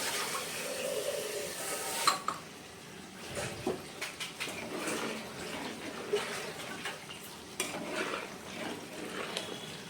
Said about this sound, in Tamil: இந்த கண்டிஷனில் நான் பால் ஊற்றிக்கணும்.